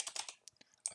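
Quick bursts of computer keyboard typing, a rapid run of soft close key clicks, then a brief pause before another short flurry, with no voices.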